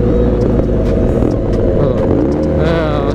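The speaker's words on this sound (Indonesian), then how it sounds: "Nih kalau teman-teman lihat gue geber ya." Motorcycle engine on a Sunday group ride, a steady loud drone with a slight rev swell near the end, heard up close from the rider's position with rumbling wind.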